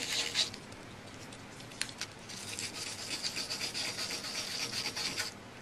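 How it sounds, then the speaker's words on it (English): Sandpaper roughing up the back of pictures at close range, with a continuous scratchy rubbing in quick back-and-forth strokes and no talking. "we're going to take the sandpaper and rough up the back"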